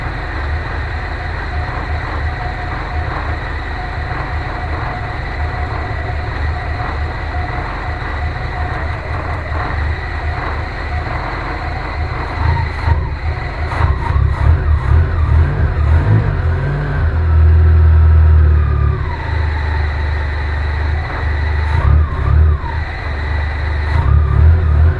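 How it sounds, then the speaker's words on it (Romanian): A Dacia 1300 engine idles with a steady, loud drone, then revs and surges unevenly with rough dips and swells, close up and without talk. "Motorul merge ușor întrerupt"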